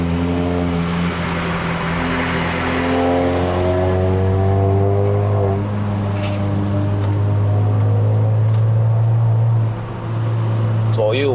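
A Mazda 3 BP 2.0L liftback engine pulls hard uphill on a mountain road in Malaysia, a loud steady drone whose tone climbs with speed and holds near and continuous throughout.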